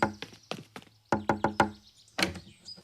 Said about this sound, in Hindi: रोहित, दरवाजा खोलो।